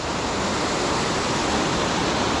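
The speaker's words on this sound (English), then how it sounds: "that's where the waterfall goes down through the skinny gorge" Hethpool Linn waterfall rushes down a narrow gorge in a loud, steady, broadband roar of water with no breaks, close by and filling the whole scene.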